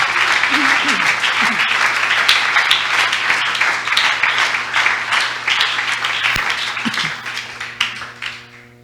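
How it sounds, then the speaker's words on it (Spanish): Sustained applause from a church congregation during a worship service, dense steady clapping that fills the room and slowly fades toward the end, with low tones and a brief voice underneath. "Dele un aplauso al Señor en esta hora."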